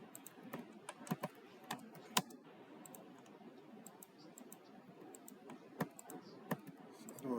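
Computer keyboard typing mixed with mouse clicks while drafting in AutoCAD, quick irregular taps and clicks close by at a low level, with no speech.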